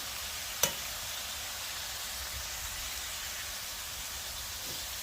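Eggs fry over peppers, mushrooms and steak in a cast iron pan on a kettle grill, a steady faint hiss of sizzling with one sharp click near the start.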